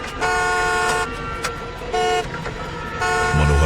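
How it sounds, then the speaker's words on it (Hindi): Several loud car horn honks, a steady tone sounding repeatedly in bursts over road noise, with a final lower blast at the end. "उस कार का हॉर्न ऐसे बजा जैसे कोई अंदर बैठकर बजा रहा हो।"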